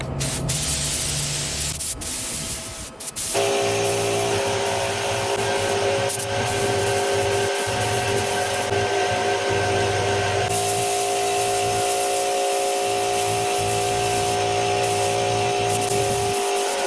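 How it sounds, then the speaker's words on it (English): A spray gun hisses steadily and loudly for a long stretch, spraying paint on car wheels, with a brief pause early on before the continuous spraying resumes. "I got my spray gun filled with paint."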